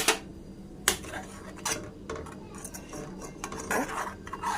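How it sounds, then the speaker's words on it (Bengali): A metal spoon stirs freshly boiled milk tea in a pot, giving sharp clinks and scrapes against the vessel at an irregular pace, close and fairly quiet, with faint background noise between strikes. "চামচ দিয়ে ভালো করে নাড়িয়ে দিলাম"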